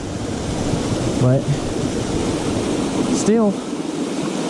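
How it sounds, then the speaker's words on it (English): Water tumbling down rocks in a small trailside waterfall, a steady broadband rush throughout, with brief speech over it. "it's water falling down some rocks, so waterfall"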